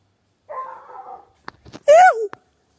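A dog barks during an armadillo hunt, giving a low drawn-out call, then a few sharp short yelps and a loud rising-falling bark, all fairly close.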